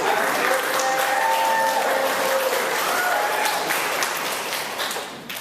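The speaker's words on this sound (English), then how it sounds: "round of applause for that." Applause from a theater audience fills the space, a dense steady wash of clapping sustained throughout and tapering slightly at the end.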